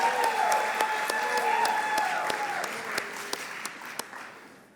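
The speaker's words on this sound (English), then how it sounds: "let's give a rousing round of applause for the band getting us going this morning" A convocation audience applauds the band that opened the morning, a steady dense wash of clapping that slowly thins, with a few sharper individual claps standing out toward the end and some musical tones lingering underneath.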